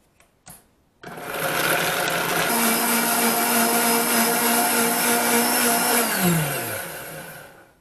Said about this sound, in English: I'm going to just start the blending on this just to start getting them a little bit creamy.